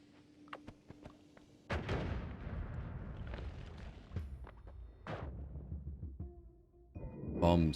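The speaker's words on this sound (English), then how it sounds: "Bombs, yes." Bomb explosions in the roguelike game Noita, several booming blasts with rumbling tails spread across the clip, one near the start, one in the middle and a sharp burst at the end, amid crackling debris.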